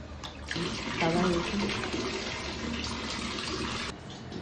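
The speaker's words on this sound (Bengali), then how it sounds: "এটা লবণ দিয়ে এটা একটু ধুয়ে নিব" Fish being washed with salt under a running tap, with a steady gush of water over the fish throughout.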